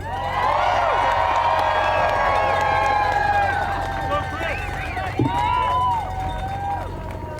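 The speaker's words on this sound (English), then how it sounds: "you're going to want to give her a major round of applause" A large outdoor rally crowd at a People's State of the Union event cheers and shouts loudly, with whoops and a continuous roar of voices and some clapping mixed in.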